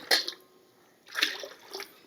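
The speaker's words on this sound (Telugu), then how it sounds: "దీంట్లో నీళ్లు పోసేసి పక్కన పెట్టుకోవాలి" Water splashing into a bowl of soaking semolina (rava) for idli batter, two short pours a second apart, fairly close and moderately loud with light sloshing and drips.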